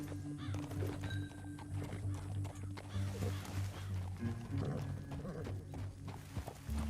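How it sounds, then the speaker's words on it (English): A horse whinnies in Red Dead Redemption 2 amid clip-clopping hooves over a steady low hum, fairly quiet and continuous. "Get back on your horse."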